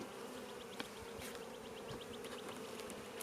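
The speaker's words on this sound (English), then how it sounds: "we got a good cluster of bees here on the inside" A dense, steady hum of many bees buzzing close by during a weak hive's inspection, with individual insects droning past in short rising passes.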